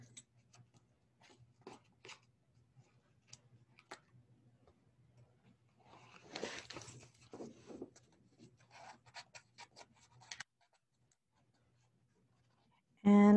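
Cut pieces come off a Cameo cutting mat with faint, scattered peeling and rubbing sounds: light ticks and scrapes, then a denser patch of crinkly tearing in the middle, and the sound fades to quiet near the end.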